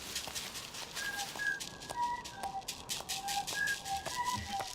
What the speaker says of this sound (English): hearing all the different noises of migratory birds and local birds together in a single big flock